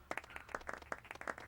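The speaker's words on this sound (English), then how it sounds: "Yeah, applause, yeah." Short burst of clapping and applause from the video game Chrono Cross, a crowd's sharp claps overlapping in a brisk patter, moderately loud and close.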